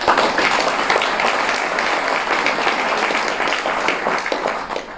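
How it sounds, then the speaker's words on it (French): A large audience claps steadily and loudly at a New Year's wishes ceremony, the dense applause continuing evenly from start to finish with little else heard. "je vous demande de les applaudir"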